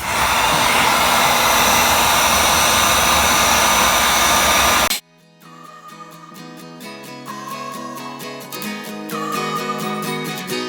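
A heat gun blows hard and steady for about five seconds while heating a tight-fitting part, then cuts off abruptly, leaving a tonal whine and mechanical hum that continues to the end.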